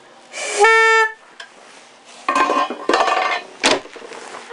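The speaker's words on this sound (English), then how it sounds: "ancient foghorn made in England" An old English-made foghorn aboard a boat gives a short, loud, close tonal blast, followed by clattering knocks and rattles of objects being handled.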